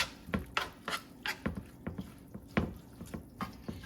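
Cooked rice and sauce being mixed in a dish with a utensil, a series of soft wet scrapes and clinks against the dish in an irregular rhythm, close and quiet.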